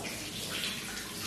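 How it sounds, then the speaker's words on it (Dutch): Tap water runs steadily while hair is being wetted under the faucet, a continuous close splashing hiss with no talking over it. "We gaan haar nat maken onder de kraan."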